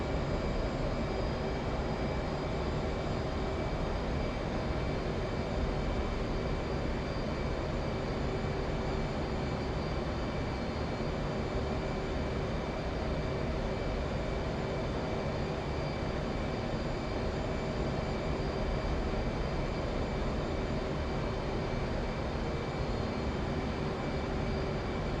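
Jet aircraft in DCS World cruising near Mach 0.65, a steady, unbroken engine roar with a faint tonal whine that holds constant throughout, with no voices.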